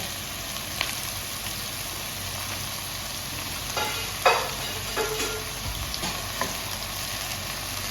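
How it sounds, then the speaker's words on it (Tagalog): Bean sprouts are stirred and sautéed in a pot in a home kitchen, giving a steady close sizzle with scattered soft scraping and clinking from the stirring. "Halo-haloin lang guys. Hanggang sa magkipit yung gulay."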